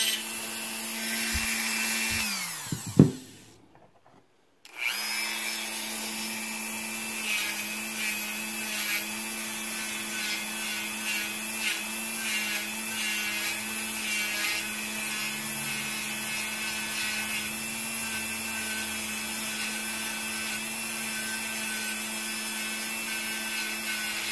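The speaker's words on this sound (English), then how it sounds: "now I'm just going to polish it up. Make sure there's no burrs on it." Small rotary polishing wheel deburring a metal part from a Singer 500a sewing machine, a steady high motor whine with a grinding hiss that stops briefly near the start, then runs on evenly and fairly close.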